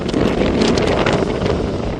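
Strong wind buffets the microphone over rough sea waves off the coast at Vlorë during a cross-retrieval event in cold water, a continuous loud roar with broadband rush and no pauses.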